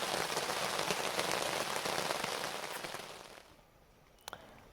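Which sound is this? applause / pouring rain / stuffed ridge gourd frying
pouring rain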